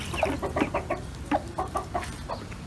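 A rooster clucking while it eats soaked bread, a string of short, close, fairly loud clucks in irregular bursts with no talk.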